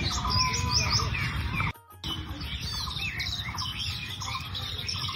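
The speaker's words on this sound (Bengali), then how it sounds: "পাখির এই কলকাকলি যেন আমাদেরকে অভ্যর্থনা জানাচ্ছে।" Many birds chirp and tweet in a rural village on a river char, a dense overlapping chorus of bright calls close by, briefly cut off near the middle before resuming.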